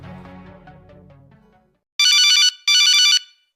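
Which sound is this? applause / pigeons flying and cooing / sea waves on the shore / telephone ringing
telephone ringing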